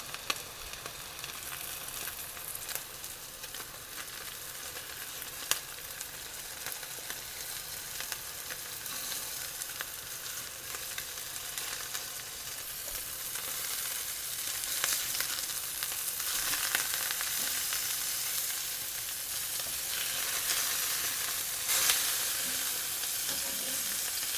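Salisbury steak patties fry in a skillet with a steady, close hiss and crackle of sizzling fat that grows slightly louder over time, with no talking.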